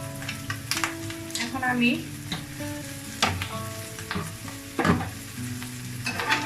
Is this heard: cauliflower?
yes